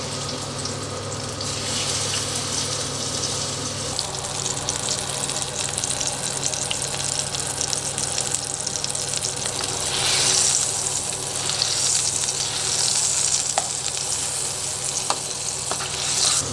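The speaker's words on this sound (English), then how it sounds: "flour plus some olive oil, straight in the venison steak." Venison steak hits a pan of flour and olive oil with a steady, close, continuous sizzle, the frying noise swelling slightly midway with faint clinks and stirring sounds, no talking.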